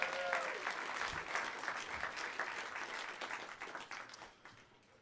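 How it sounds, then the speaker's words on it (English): An audience applauds a storyteller at a live storytelling show, steady dense clapping that starts strong and slowly fades over a few seconds. "Let's hear it for Ted, everybody."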